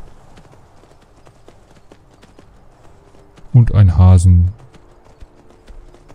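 Horse hooves clip-clopping in the game Skyrim, a short run of hoofbeats with a neigh-like burst in the middle, faint ambient ticks around it and someone talking briefly over it.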